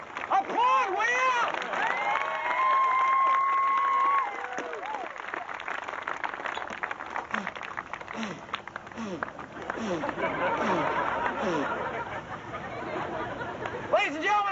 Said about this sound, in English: Applaud, will you?